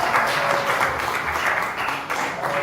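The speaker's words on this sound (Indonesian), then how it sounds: "beri tepuk tangan untuk kelompok" A class of students gives a group steady applause indoors, a continuous wash of clapping that lasts the whole short stretch with no talk over it.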